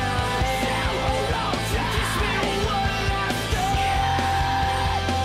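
A screamo band in their mid-to-later career style: a loud, dense mix of distorted guitars, pounding drums and harsh shouted vocals, continuous and full throughout.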